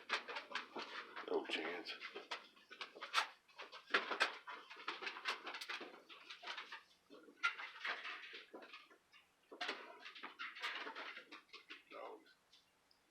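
Dogs pant and shuffle about close by in a home, with quick patter and soft whimpers in the background while someone talks over them.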